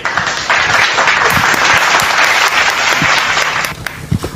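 Dense, steady applause from an audience at an interfaith debate, filling the whole stretch at a loud level with no talk over it.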